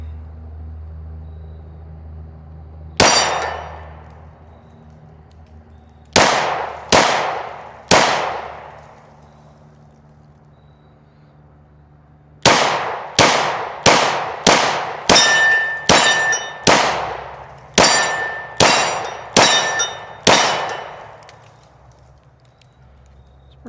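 Glock 29 10mm pistol fired at a range target; sharp, loud shots ring out, one alone, then a pair and a single, followed by a fast string of about ten in quick succession, each with a brief ringing decay.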